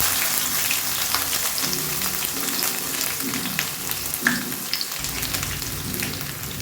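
Chopped ginger sizzles in hot oil over mustard seeds that have already popped, a steady crackling fry with occasional sharp pops, close and continuous throughout.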